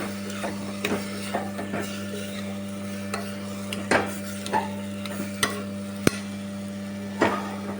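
Washed rice is stirred in a cooking pot while mint rice is being made, giving a loose run of scraping knocks and clicks over a steady background hum.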